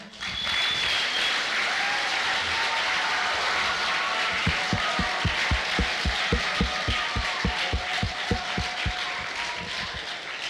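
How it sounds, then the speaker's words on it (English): A small group claps for several seconds, the sharp claps growing steadier and more rhythmic before fading out. "Before I go, I want you guys to give a round of applause to my assistant here, Isaiah Connor."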